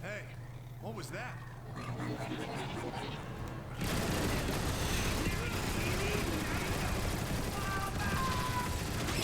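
Continuous gunfire in Transformers: War for Cybertron, starting as muffled background shooting and then jumping to a louder, denser barrage partway through, with game voices talking over it.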